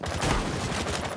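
A quick burst of rapid gunfire in the tactical shooter Rainbow Six Siege, loud and close, fired in fast rhythmic succession with no talk over it.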